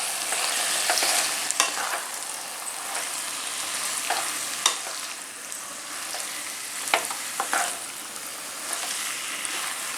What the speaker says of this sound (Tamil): நூடுல்ஸ் சேர்த்தாச்சு. இப்போ இதை வந்து நல்லா வந்து கலந்து விட்டுக்கலாம்.